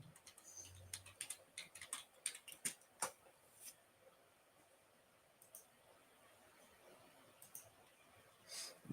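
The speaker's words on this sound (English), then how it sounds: "I'll just type it in." A search typed into Google on a computer keyboard: a quick run of close, crisp key clicks in uneven bursts, then a quieter pause and a few scattered taps.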